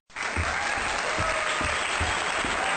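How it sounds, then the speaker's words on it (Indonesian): Steady, dense applause from an audience fills the space, starting abruptly and continuing evenly at moderate loudness. "Beri tepuk tangan."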